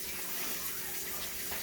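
Hot water gushes steadily from a kitchen tap during hand washing before making homemade pancakes, a continuous close hiss with no breaks.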